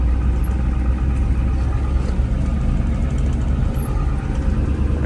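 A 1986 Ford F250 4x4 with a 7.3 turbo diesel and ZF5 manual swap runs steadily, a loud, close, low rumbling idle with no change in pace and no voices.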